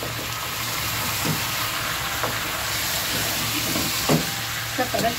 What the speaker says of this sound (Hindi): इसको हम थोड़ा सा भून लेंगे गोश्त को, हड्डी वाला गोश्त है